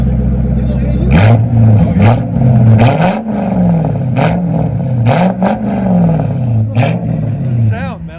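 A deep Lexus SC 400 4.0L V8 engine with modified exhaust rumbles loudly and revs repeatedly in rising and falling surges, close by, with voices talking over it.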